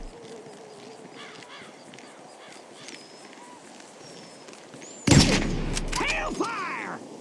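In a GTA video game, a sniper rifle shot cracks out loudly near the end over a faint ambient background, followed by ringing and a whistling tail.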